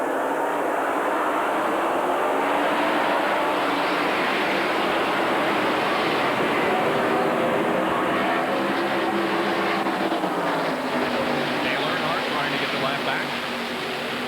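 Stock cars roar off at the green flag start of the 1992 Hooters 500 NASCAR race, a loud, dense wall of engine noise with rising and falling pitch from a big pack of cars, heard under a commentator's voice throughout.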